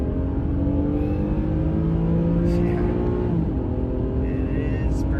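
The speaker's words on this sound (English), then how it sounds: "so I'm flooring it." A 2008 Infiniti G35xS sport sedan accelerates at full throttle, its engine drone rising steadily in pitch from inside the cabin, then dipping briefly at a gear change before climbing again, loud and continuous.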